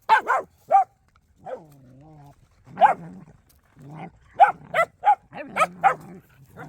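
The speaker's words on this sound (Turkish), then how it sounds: "Bunlar bir süre havlayacaklar böyle." Several dogs bark and yelp in irregular bursts close by during a feeding in a forest, with short pauses and a few whining, drawn-out calls between the barks.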